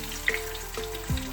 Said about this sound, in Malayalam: ഇത് ഒത്തിരി അകത്തോട്ട് വെന്തിട്ടില്ല